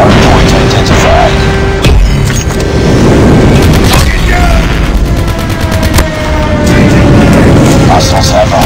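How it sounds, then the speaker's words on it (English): Booming airstrike blasts and gunfire in Call of Duty, a dense loud barrage of explosions and shots under frequent game voice announcements and excited player talk. "Friendly airstrike incoming."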